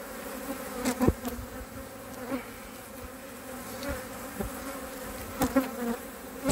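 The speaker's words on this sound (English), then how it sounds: "I'm still surrounded by the nasty bees from that hive next to them." Honey bees buzzing around hives in an apiary, a steady layered drone from several insects with individual bees passing close by in louder swells, no talking.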